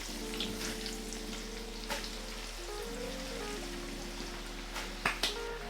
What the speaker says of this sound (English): Once it's melt, you can go at medium heat and put all the onion in.